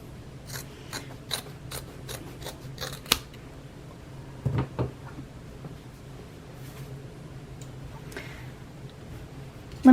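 Scissors snip through excess cord in a quiet sewing setting, a run of crisp, close cuts in quick rhythm at first, then a few sparser snips and light handling clicks.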